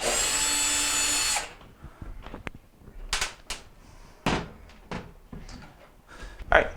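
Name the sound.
power screwdriver removing Phillips screws from GE dryer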